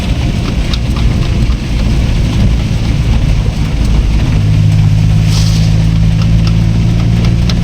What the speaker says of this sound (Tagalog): So, grabe ang ulan